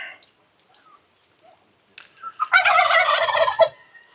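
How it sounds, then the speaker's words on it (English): A big turkey on a rural farm in Conner, Apayao, Philippines lets out a loud, close gobble lasting about a second, after faint scattered sounds and brief movement noises. "Plenty of turkeys."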